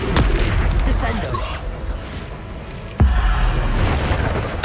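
Bombarda spell blasts in the video game Hogwarts Legacy land as heavy booming bursts, one at the start and a second sharp one midway, each followed by rumbling decay, with a voice underneath.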